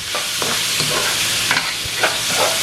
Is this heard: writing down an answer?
no